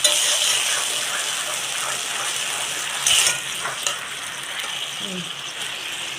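Spice paste for a pointed gourd curry sizzles and crackles in a pan, with a steady frying hiss, a short louder burst of stirring midway, and faint scrapes.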